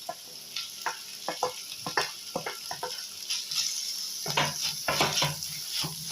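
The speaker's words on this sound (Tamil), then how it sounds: "தக்காளி வெங்காயம்லாம் நல்லா அப்படியே இந்த மாதிரி கலந்து விட்டோன்னு நல்லா எல்லாமே நசுங்கி வரணுங்க." Tomatoes and onions sauté in a pan for a traditional mushroom pepper gravy, with a steady sizzle under repeated scraping stir strokes of a spoon, close and fairly loud, and no talking.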